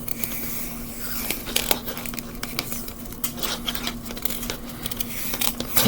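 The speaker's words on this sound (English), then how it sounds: "take my scissors, I'm gonna cut this" Scissors cut through cardboard with a run of crisp snips and scratchy crunches, close and moderately loud, and no voices are heard.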